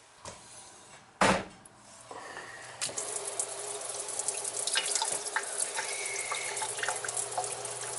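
Slow one-piece kitchen faucet running, water hissing steadily into a sink after a few clunks and a sharp knock at the start, the flow building and continuing alone.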